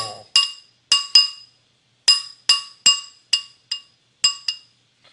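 A metal fork strikes repeatedly against a glass bowl while pounding peanut butter into it: about eleven sharp, ringing clinks in irregular bursts, close and clear, with no talking.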